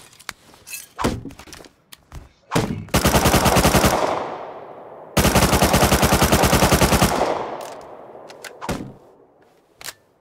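Video game gunfire from a stone-wall siege: a few single shots and thuds, then two long sustained bursts of rapid automatic fire, loud and close, followed by scattered lone shots.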